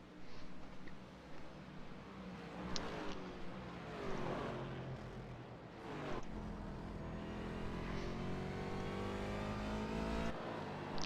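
A race car on a racetrack, lapping the number 20 car, roars past with rising and falling engine pitch, loud and close, as other cars follow through a corner.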